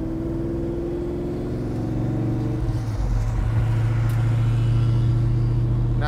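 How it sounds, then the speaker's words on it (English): A 1957 Chevrolet Bel Air muscle car's exhaust rumbles steadily as it drives, a deep low burble that swells a little louder halfway through, heard up close with no talking. "I'm going out for driving a muscle car. I'm gonna listen to the exhaust."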